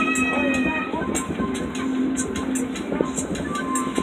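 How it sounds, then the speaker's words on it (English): A small zoo train rolls along with a steady mechanical rumble and rhythmic clicks or ticks repeating roughly every half second, a hum running underneath, at moderate loudness. "The train will now be stopping at our giraffe and camel feeding station."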